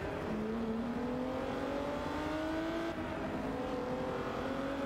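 Race car in a video game launching and accelerating, its engine tone climbing steadily through the gears as a loud, continuous whine with a short dip near the middle.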